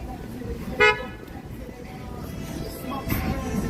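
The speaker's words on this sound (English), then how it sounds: "Why are they honking?" Car horns toot on a busy Chicago street: a sharp honk near the start, then another later, over steady traffic and city noise with faint voices.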